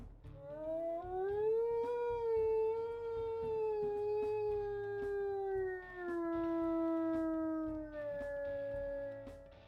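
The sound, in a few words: wolf howls in video game WolfQuest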